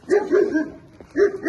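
A dog barks close by on a frosty, snowy village morning walk, in two short bursts of yaps and whiny barks, with a brief quiet gap between them.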